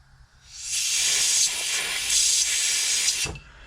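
Compressed air hisses from the port of an ARB RD117 air locker during a rebuild, a steady close hiss lasting about three seconds before cutting off sharply.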